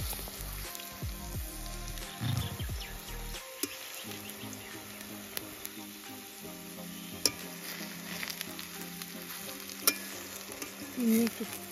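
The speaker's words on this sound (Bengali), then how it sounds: "একটু লাল করে ভেজে নিতে হবে।" Thankuni leaf fritters fry in hot oil over a fierce flame, a soft steady sizzle with occasional stirring scrapes and small clicks, fairly quiet and close.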